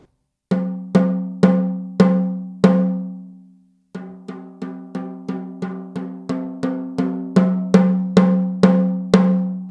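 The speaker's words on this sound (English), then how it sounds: "Let's hear how it sounds with the snare wires off." A blue Ludwig Vistalite plastic snare drum with the snare wires off is struck in steady single hits, each leaving a ringing, tonal sustain. Four spaced strokes are followed by a pause, then a quicker, even run of hits, with nothing else heard.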